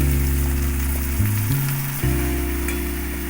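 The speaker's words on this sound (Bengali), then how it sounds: "মশলা ধোয়া জল একটু দিয়ে দিলাম।" Rinse water from washed spices hits a hot pan of poppy-seed paste and hums into a steady, close sizzle, with a few brief shifts in pitch as the pan settles, and no voices.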